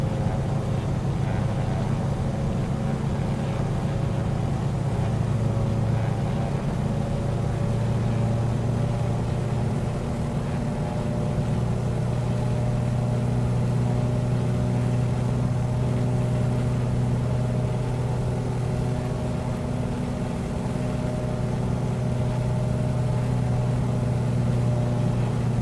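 Twin radial engines of a Beech D18S drone in Microsoft Flight Simulator, a steady low throbbing hum with faint shifting harmonics, constant and unbroken for the whole stretch without speech.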